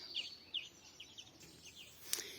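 Sparrows chirp in the morning with short, quiet tweets repeated in scattered bursts over a faint, calm background.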